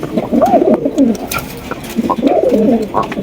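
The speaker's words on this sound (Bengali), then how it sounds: "পাচ্ছেন একজোড়া কিং কবুতর" A pair of king pigeons, one black, coo in two close, throaty bursts with a short pause between them, loud and near with no talk over them.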